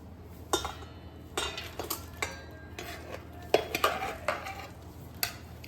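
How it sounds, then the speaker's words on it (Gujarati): Cooked masoor pulao rice being tipped into a perforated metal sieve to drain, with a series of sharp clanks and scrapes of metal utensils and vessels at close range, irregularly spaced. "આ રીતે એક કાનાવાળી ચાળણીમાં આપણે બધા ભાતને કાઢી લઈશું"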